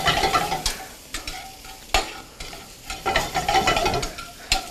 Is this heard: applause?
no